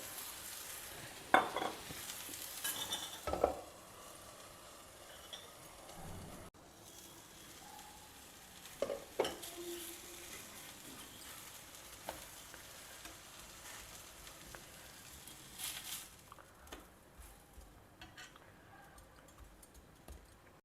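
Podi mini uthappams fry on an oiled pan for a South Indian breakfast, giving a soft, steady sizzle with a few louder scraping clicks near the start and around nine seconds, no talking.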